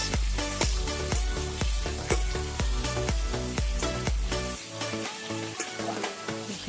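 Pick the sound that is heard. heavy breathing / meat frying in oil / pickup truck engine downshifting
meat frying in oil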